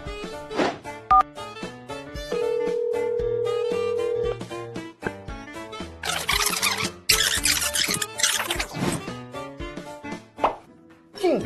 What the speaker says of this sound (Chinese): 等我打个电话问问。